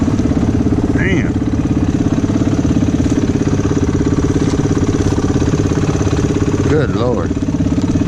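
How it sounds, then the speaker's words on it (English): A warm 300 four-wheel-drive ATV engine idles steadily and loudly close by, a constant rumbling throb with no change in pace, while someone speaks briefly over it. "I got to cut the idle down. Bike's too warm."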